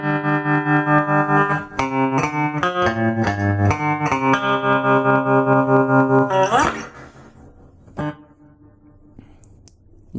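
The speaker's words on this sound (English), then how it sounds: "we've got a whole range of effects, and we can stack a few of them together." Guitar through a Fender G-DEC 15 amp with several effects stacked. A loud run of picked notes is heavily processed with echo and modulation, then rings out and decays into a faint tail after about seven seconds, with no talk.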